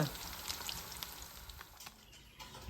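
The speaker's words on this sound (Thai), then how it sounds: "ปลาซิ่วทอดกรอบค่ะ" Small pla siu fish fry crisp in hot oil, giving a soft, steady crackle and sizzle with light popping, quiet and continuous throughout.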